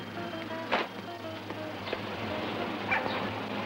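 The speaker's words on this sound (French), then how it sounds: "Ah, le chien." A dog whimpers and gives a few short yips at moderate distance over a low steady background hum, with no clear talk.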